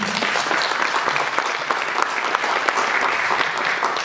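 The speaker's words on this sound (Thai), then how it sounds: "ผมขอเสียงปรบมือครับนิดนึงครับ" Dense, continuous applause comes from an audience at a stage-play press event, many hands clapping together with scattered sharper claps standing out.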